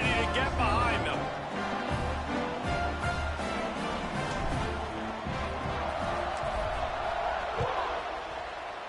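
Football stadium crowd at kickoff, a broad roar with whoops and cheers rising and falling, with a commentator speaking over it.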